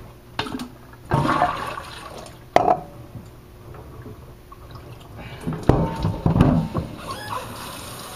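Hot water runs and splashes into a sink in uneven bursts, close by, with a few clatters between the gushes and no voices.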